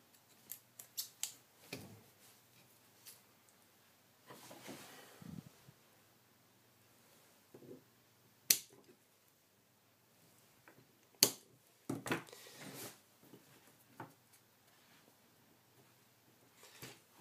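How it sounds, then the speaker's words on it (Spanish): A small piece of lead being cut with scissors while modifying an Xbox controller: faint, close snips and clicks scattered through near-silence, with occasional light handling rustles. "Vamos a cortar un trocito de mina de este."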